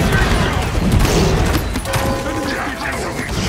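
Gunfire from the online shooter game Paladins: a rapid, loud stream of shots and impacts packed together with a heavy low rumble, while a player talks excitedly over the top.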